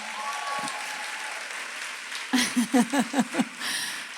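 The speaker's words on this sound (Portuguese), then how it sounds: "Queria que a gente aplaudisse os pastores de vocês." A church conference audience applauds its pastors, with steady clapping under a held tone that gives way to a short run of rhythmic, voiced bursts from the crowd near the end.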